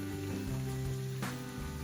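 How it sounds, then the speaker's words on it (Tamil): Bread rolls filled with chicken and cheese fry in sunflower oil, giving a steady low sizzle with a faint bubbling hiss throughout, quiet and close, no voices. "இப்போ நான் இதுக்குள்ளே ஒவ்வொரு ரோலாக போட்டு பொரிய விட போகிறேன்."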